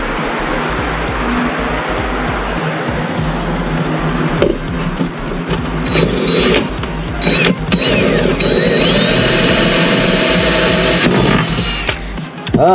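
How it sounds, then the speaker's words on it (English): Power drill boring out a screw through plastic with possible metal beneath, a loud, continuous whirring grind with shifting pitch and bursts of revving over a rough background rumble. "I have to drill out this other side though."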